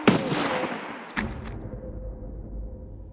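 Shotgun gunfire in the Escape from Tarkov video game: a loud blast at the start, then a second sharp report about a second later, each trailing into a rumbling decay with no one talking.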